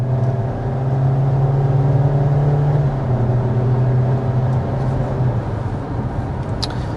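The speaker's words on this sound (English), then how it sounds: "we are speeding up to 55 miles per hour so we can get our sound level reading" A 2025 Kia Seltos SUV accelerates on the road toward 55 mph, heard from inside as a steady loud engine drone with rising pitch and road hum, no talking over it.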